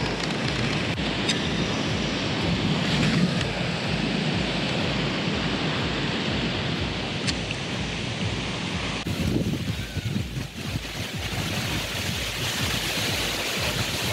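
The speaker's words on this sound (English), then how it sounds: "Look at that rain." Heavy rain falls during a storm outdoors while fishing, a dense, continuous wash of noise with some wind buffeting, loud and close throughout without speech.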